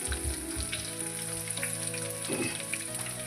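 Green chilies and crushed ginger fry in hot oil with a steady, close sizzle and crackle, plus a brief stir partway through.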